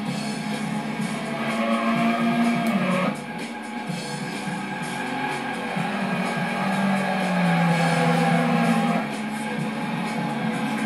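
Gran Turismo 2 race car engine drones loudly and steadily throughout, with tires squealing and skidding as the car drifts and spins out, its pitch rising and falling.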